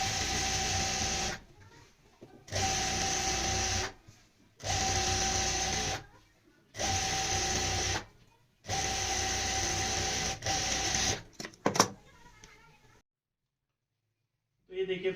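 Sewing machine running the side seam of a full-flare lehenga in repeated bursts of steady whirring stitching with short pauses between them, close and loud, ending with a few handling clicks and then quiet.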